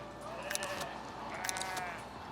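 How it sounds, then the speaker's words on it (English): Sheep in the video game Foundation bleat twice, two short wavering calls about a second apart over a soft, steady background hum. "Hugalina and her sheep"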